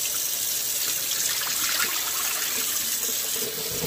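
Dark, discoloured water runs steadily from a tap in a continuous close rushing gush, alone and without talk.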